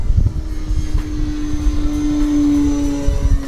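A small E-flite Commander mPd RC plane flies at half throttle on a high-voltage LiPo pack, its electric motor giving a steady loud whine that drifts slightly in pitch against a rough wind-blown rumble.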